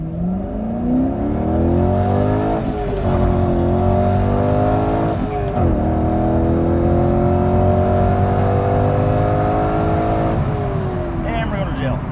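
A 2001 Chevrolet Corvette Z06 accelerates hard from inside the cabin, its engine climbing through rising pitch sweeps with short breaks at each gear shift, loud and close, while people talk and exclaim.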